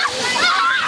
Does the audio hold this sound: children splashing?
yes